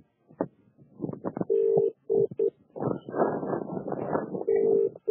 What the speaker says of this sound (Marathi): भाऊ साहेब आणि त्याला फोन लावलाय रे.